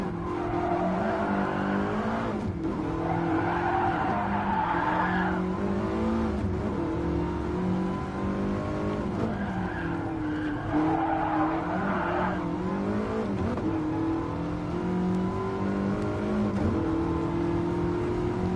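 Ford Mustang in Gran Turismo Sport, an 831-horsepower build: a steady loud engine drone rising and falling through the gears, with tire squeal over it.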